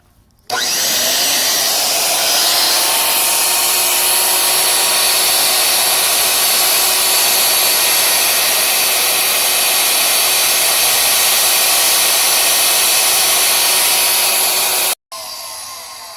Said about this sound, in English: drilled a little, started smoking